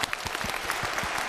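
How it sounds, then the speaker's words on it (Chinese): Studio audience at a televised matchmaking show clapping in a steady burst of applause, dense and sustained across the short stretch with no talk over it. "掌声给点鼓励，好吧？"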